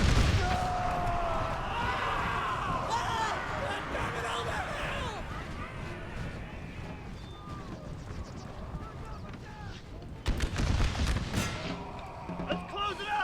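Musket volleys crackle and boom from massed infantry in an American Civil War battle in Napoleon Total War, dense and continuous under a constant din of battle noise, with a burst near the end and voices talking throughout.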